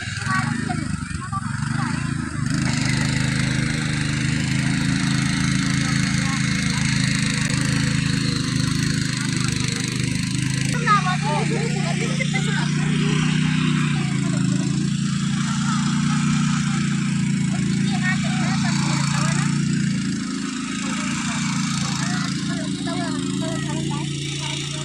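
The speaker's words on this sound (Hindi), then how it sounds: "ट्रैक्टर भी पहुंच चुका है खेत में, तो अब इसको निकालते हैं।" A tractor engine runs in a hillside farm field during rainy-season field work, giving a steady, continuous low drone that holds at an even loudness for the whole stretch.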